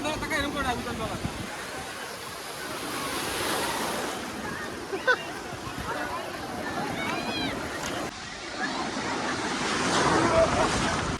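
Sea waves at the beach in Puri, a steady broad wash of surf with gusty wind noise on the microphone, while people talk nearby.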